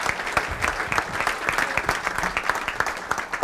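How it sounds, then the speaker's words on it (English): An audience claps in steady, dense applause at a leadership conference, moderately loud and close and with no voices over it. "Big round of applause, Dr. Stephen Mansfield."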